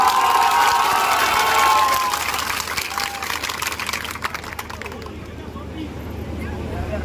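A crowd at a political rally on a Parivartan Sankalp Yatra in Sadulshahar claps and cheers loudly in welcome, a dense roar of hands and voices that fades after a few seconds into scattered clapping and murmur.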